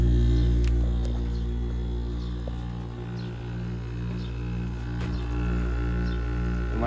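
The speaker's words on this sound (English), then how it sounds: "switch on the compressor" Compressor of a Kenmore 10,000 BTU through-the-wall air conditioner running, a steady low electrical hum with layered tonal drone, close and constant, with faint chirps in the background and no talking.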